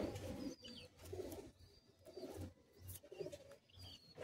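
A Madrasi high-flying pigeon in a loft coos in soft, repeated throaty bursts close by, with small chirps between them.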